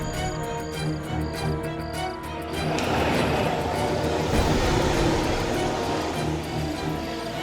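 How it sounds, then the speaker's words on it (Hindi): A large vehicle approaches, its low engine rumble and rattling growing louder and closer over a few seconds in a dark forest setting, with no voices. "ये तो बस की आवाज है,"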